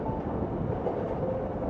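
Train riding ambience in the visual novel game Heart of the Woods: a steady, dense rumble of a moving rail car, loud and continuous, with no voices.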